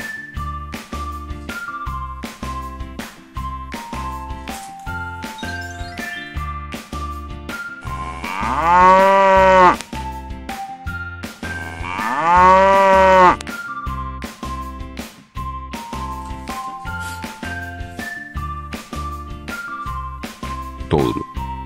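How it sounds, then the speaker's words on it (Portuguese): Two long, loud cow moos from a toy animal stand out over a bouncy music track, each lasting about a second and a half, with no voices present. "vaca."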